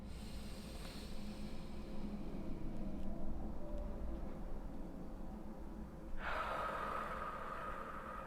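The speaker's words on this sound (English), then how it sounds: "Inhale, hold, exhale." Slow deep breaths during a breathing exercise, a long soft airy inhale building over several seconds, then a sudden louder rushing exhale, close and alone without talk.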